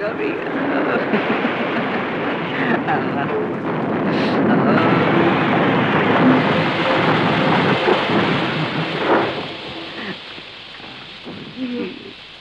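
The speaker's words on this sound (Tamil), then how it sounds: "என்னடி மழை பெய்யுது?" Steady rain falls continuously, a dense wash of hiss with wind-like rumble, loud and close throughout, with faint voices underneath.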